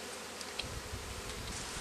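Honeybees from frames lifted out of a hive while raising queens make a dense, steady buzzing close by, with no talking.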